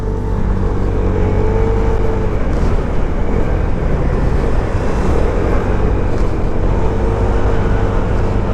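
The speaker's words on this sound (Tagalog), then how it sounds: "Kapag tinotrottle mo itong motorsiklong ito, talaga namang amazing." A Vespa GTS Supersports 300cc scooter engine hums steadily while riding, mixed with heavy wind rush.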